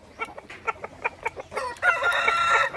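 Shamo Aseel fighting rooster in the Philippines, a series of short, close clucks followed by a full, loud crow at the end.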